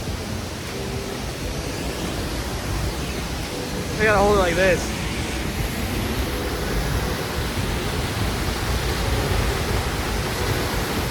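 A raging Ozone Falls waterfall in a winter storm roars as a steady broadband wash heard from behind the falling water, with someone talking briefly over it.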